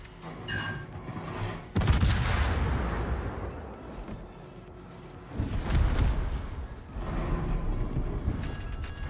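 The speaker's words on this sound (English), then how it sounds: "that explosion from Delaware" Two heavy booming naval gun blasts from a battleship in a video game, a few seconds apart, each a loud crack that rolls off into a long rumbling decay, amid distant background noise.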